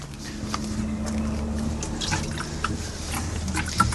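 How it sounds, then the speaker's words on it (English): Water pours steadily from a can into a planting hole in a GreenStalk vertical planter before a pepper plant goes in, a continuous close splashing trickle with small drips over a low background hum. "I'm just going to water the whole before adding the pepper."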